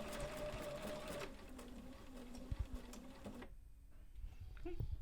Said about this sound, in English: And then I'm just going to sew.